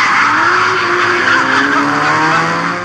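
Car drifting and skidding on a public road, with a loud continuous tire squeal and a revving engine that rises in pitch through gear changes, close and sustained throughout.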